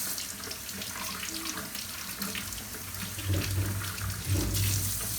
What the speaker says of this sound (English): Then I'm going to wash my apple.